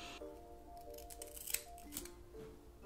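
Craft scissors snip through the lace of a wig in a quiet room, a few crisp cuts with a sharper snap midway and another toward the end, heard alone without talk.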